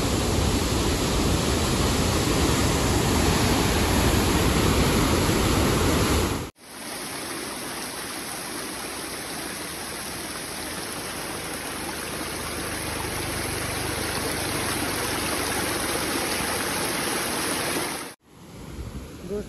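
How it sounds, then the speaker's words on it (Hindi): Fast-flowing river below a dam near Bhopal with its gates open, a loud, steady broadband rush of churning water that runs unbroken throughout, with no voices. "ये कलिया सूत्र नदी है, देखो कितने वेग से बह रही है।"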